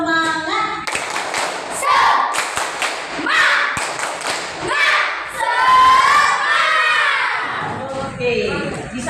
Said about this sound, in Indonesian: Ayo, kita melakukan tepuk semangat.